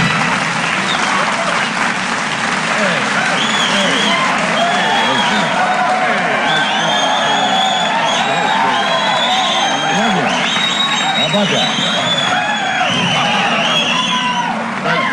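A live studio audience on a radio show applauds and cheers loudly and continuously, dense clapping mixed with whoops and shouts, while a voice speaks briefly over the noise.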